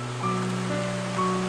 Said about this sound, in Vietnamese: Cái con suối ở trên kia á, mọi người cũng có thể thấy rồi đó, suối rất là đẹp